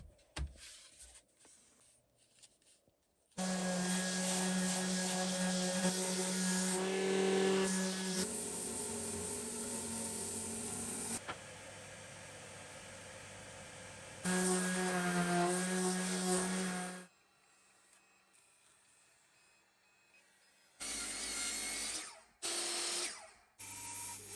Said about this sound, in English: what I want to do is start sanding in this